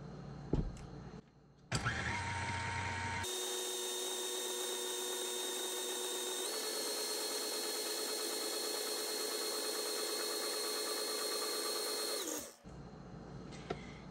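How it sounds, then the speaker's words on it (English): A stand mixer fitted with a dough hook kneads soft pretzel dough, its motor starting with a jolt and then holding a steady, loud mechanical whir for several seconds before winding down, with no talking. "since I'm using the mixer, I've got the dough hook, I can knead it in here"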